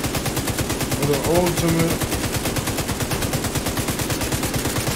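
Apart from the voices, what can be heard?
gunfire in the video game Tom Clancy's The Division 2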